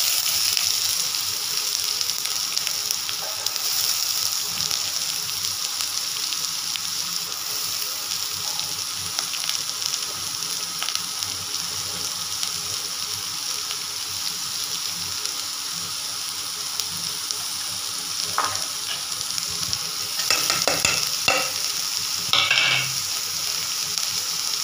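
Onions frying lightly in leftover oil with a chilli and bay leaf, a continuous even sizzle over a long stretch, broken by scraping and clinking stir strokes that grow busier toward the end.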